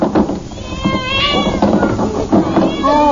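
Several cats meowing in an old-time radio comedy drama from 1953, with repeated overlapping meows and a caterwauling cry heard close and loud.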